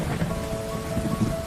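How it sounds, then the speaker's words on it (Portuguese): Steady rain with a low rumble of thunder rolling underneath, a continuous storm wash with no voices. "Então, começou a chover."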